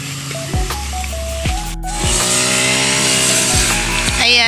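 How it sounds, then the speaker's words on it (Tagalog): A grass cutter runs among banana plants while clearing weeds, its small engine droning steadily close by with several sharp revving surges and falling pitch sweeps. "Nag-grass cutter na siya ng mga damo."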